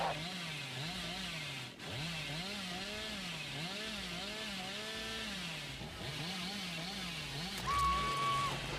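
Billy's chainsaw from Dead by Daylight revs in a wavering, rising-and-falling growl that keeps going for several seconds, fairly steady and not loud, with a brief sharp tone near the end and no talking.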